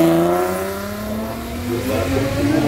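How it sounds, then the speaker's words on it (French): A Honda CRX race car screams past at a hill climb, its engine note rising and falling loudly as it revs hard through the gears, close and unbroken. "la fabuleuse Honda CRX de Benoît Farine."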